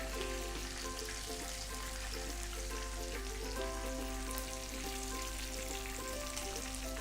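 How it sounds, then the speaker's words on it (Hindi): Last batch of chicken deep-frying in hot oil, a steady dense sizzle and crackle holding constant throughout with no voices over it. "हमारा जो ये चिकन का लास्ट बैच है ये फ्राई होने जा रहा है"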